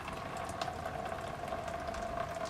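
Fuel drains from the tank of a Ford Capri in a steady, continuous gushing flow, close and alone without talk.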